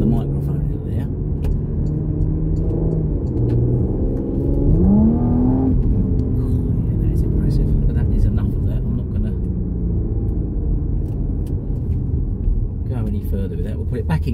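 Porsche Macan GTS engine pulling under acceleration, a low steady drone with one rising rev sweep midway, heard from inside the car at moderate level.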